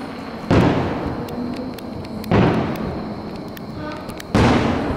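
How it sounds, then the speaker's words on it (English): Fireworks mortar rounds bursting outside an apartment complex, three loud booming blasts at regular intervals, each followed by a long crackling, rumbling decay that fills the gaps between them. "the mortar rounds have been going off for the last 10 minutes"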